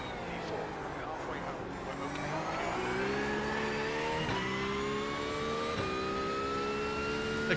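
Porsche GT3 race car in iRacing at Spa or Road America, its engine revving and climbing steadily through the gears with rising pitch, loud and continuous, with brief dips at gear shifts.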